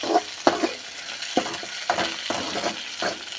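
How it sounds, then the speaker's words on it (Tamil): Ingredients frying in oil for a Tamil-style thuvaiyal chutney are stirred in a pan, giving scraping, clinking strokes at an irregular rhythm over a steady sizzle, close and moderately loud with no talk. "நல்லா எண்ணெயில் எல்லாமே பொரியணும் இல்லையா கிளறி விட்டுக்கலாம்"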